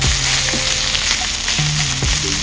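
Onions and beef sizzle loudly in a hot pan for a chopped cheese sandwich, a steady close frying hiss with a few soft scrapes as the food is stirred and spread.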